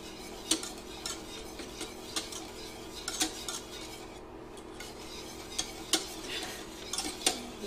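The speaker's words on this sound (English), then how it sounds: "just use your whisk to just break that down into that hot liquid" Whisk stirring marshmallow mixture into hot liquid in a pot, a steady soft scraping swirl with scattered light metallic clinks against the pan, fairly faint and close.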